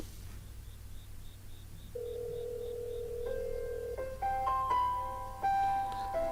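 A Samsung Galaxy Watch plays an incoming-call ringtone: a soft repeating beep pattern, then a sustained tone followed by a rising sequence of bright electronic notes, quiet and close with no voices.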